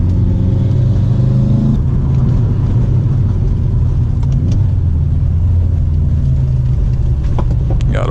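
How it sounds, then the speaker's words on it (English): A 2012 Subaru WRX STI rally car engine rumbles loudly and steadily at close range, with gravel crunching and rattling beneath the tires. "You've got that iconic Subaru rumble and the rocks"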